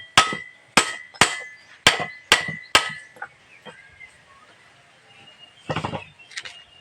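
A bearing is hammered into a modified electric water pump: six sharp, evenly spaced metallic blows ring out close up, followed by a few lighter taps and a brief cluster of clattering knocks near the end.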